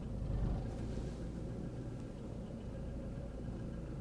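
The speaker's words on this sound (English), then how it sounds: "Now let's reverse into the drive here." A salvage Seat Ibiza with an ABS fault reverses into a driveway, giving a steady low engine rumble heard from inside the car, even and muffled, with no other sounds.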